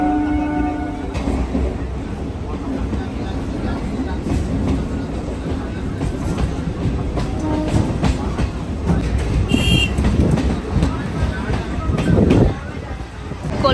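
Crowded commuter train rolling into Dum Dum station: a loud, continuous rumble of wheels and carriage noise with faint rhythmic clatter, close and enveloping, with a brief high squeal near the end and voices in the crowd underneath.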